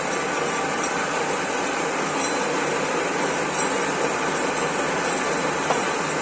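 A 1M63 screw-cutting lathe runs steadily while cutting a thread, its lead screw engaged with the half-nut; a continuous, broadband mechanical whir and hum holds at an even level throughout, with no talk.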